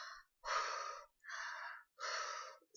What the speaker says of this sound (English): take your deep breaths